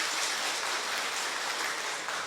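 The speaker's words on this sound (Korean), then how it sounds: "우리 박수 한번 쳐주시겠어요?" A church congregation applauds, dense even clapping from many hands that holds steady for a couple of seconds at moderate volume, with no voices over it.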